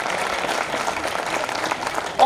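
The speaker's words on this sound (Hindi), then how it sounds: "एक बार आगे से लेकर पीछे तक मुझे तालियां बजाकर आदेशित करिए" Audience applause fills a Hindi kavi sammelan (poetry recital) hall in Vidisha, a dense, steady wash of many hands clapping throughout, with a slight swell at the very end.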